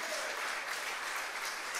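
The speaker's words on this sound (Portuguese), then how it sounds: "Uma salva de palmas a Nossa Senhora." Audience applause at a Catholic congress, a thick continuous patter of many hands clapping at close range, steady and unbroken for the whole stretch.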